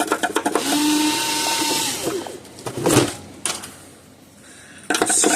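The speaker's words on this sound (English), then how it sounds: "scrape away some of the big chunks that are caked up against the housing here" A screwdriver scrapes caked debris off the housing of a hurricane-damaged Gallagher solar fence charger in bursts of harsh, gritty scraping and clattering, with short pauses and a few sharp knocks between strokes.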